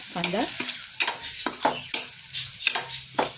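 Two chopped onions are being sautéed in oil in a pan, heard as a run of separate close scrapes and clinks from a stirring utensil, about one every half second, over a faint sizzle.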